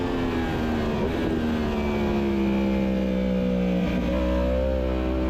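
A motorcycle engine on the Road Atlanta race track during a trackday holds a loud, close, sustained drone, its pitch sliding slowly and shifting as the bike accelerates.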